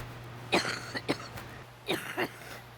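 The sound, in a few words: coughing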